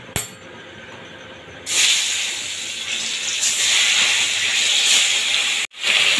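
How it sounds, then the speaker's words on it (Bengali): Marinated boal fish go into hot oil, and a loud, close sizzling hiss bursts in suddenly and keeps going steadily, with a brief break near the end. "এবার এই মাছগুলোকে তেলের মধ্যে দিয়ে ভেজে নেব।"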